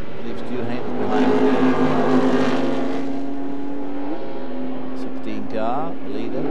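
Grand-Am sports race cars drone past in traffic, a steady engine roar with a pitch sweep as one passes, heard under continuous commentary from someone talking over them.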